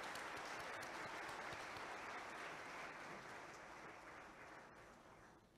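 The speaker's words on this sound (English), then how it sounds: "Please give them a big round of applause." Audience applause for prize winners on stage at the 2023 Samsung Ho-Am Prize award ceremony, steady dense clapping from a large hall that holds level and then tapers slightly toward the end.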